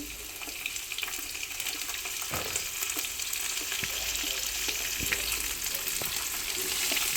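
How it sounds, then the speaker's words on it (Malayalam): Ginger and garlic frying in hot oil for chana masala, a steady close sizzle and crackle running throughout, with a few faint clinks and taps, no voices. "ഞാൻ എണ്ണ അടുപ്പത്ത് വെച്ചിട്ടുണ്ട്. അതിലോട്ട് ഞാൻ ഇഞ്ചി, വെളുത്തുള്ളി ഇട്ടു."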